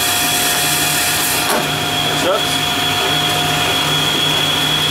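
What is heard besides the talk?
vacuum running in optical lab during lens cutting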